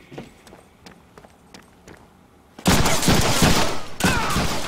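Gunfire in the Deadpool video game: quiet footsteps and small clicks for about two and a half seconds, then a sudden loud, sustained burst of rapid shots with a brief dip and a second burst near the end.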